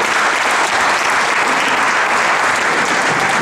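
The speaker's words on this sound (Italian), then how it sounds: "Faccio un applauso al fisio, al russo" Dense, loud applause from a crowd at a municipal award ceremony for a Coppa Italia win, a steady, unbroken wash of clapping.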